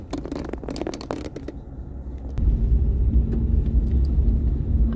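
A car drives over a wavy, rippled asphalt road, giving a low steady rumble that deepens and grows louder partway through, with some light rattling and scraping from inside the cabin.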